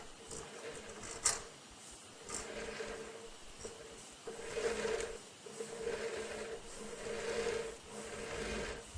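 An inspection camera scraping along the bottom of a pipe gives an irregular rasping, rubbing drag with a few sharper knocks, close and continuous throughout.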